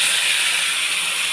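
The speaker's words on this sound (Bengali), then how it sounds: "এবার আমি শাকটা এর মধ্যে ঢেলে দেবো।" Bottle gourd greens hit hot mustard oil with garlic in a pan, giving a steady loud broadband sizzle that holds for about a second without voices.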